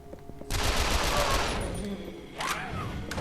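Rapid gunfire erupts in the action game Yakuza: Dead Souls, a dense sustained burst of shots that starts abruptly, fades slightly, then flares again near the end, with faint game sounds underneath.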